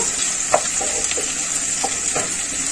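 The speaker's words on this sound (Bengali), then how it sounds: "একটা বড় পেঁয়াজ কিছু করে কাটা আছে, ওটা আমি দিয়ে দেবো। একটু ভাজা করবো।" Chopped onion and dried chillies fry in a pan with a steady bright sizzle, broken by a few soft stirring scrapes and taps, close and continuous.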